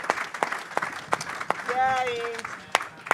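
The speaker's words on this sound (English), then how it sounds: "But applause for them" Scattered applause from an audience at a surf-film Q&A panel: a handful of distinct, separate claps spaced across the moment, with a voice speaking briefly over them in the middle.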